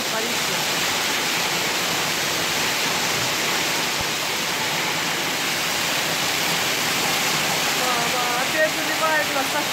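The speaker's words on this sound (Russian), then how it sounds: "Опять заливает нас так, что у нас вода будет." Floodwater pours in during a storm with hail in Germany, a steady loud broadband rush like a waterfall that holds constant throughout, with a faint chirp near the end.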